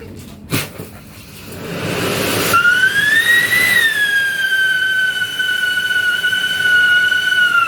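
A sharp pop, then a loud rising whistle that peaks and settles into a long, steady high-pitched siren tone from a siren firecracker.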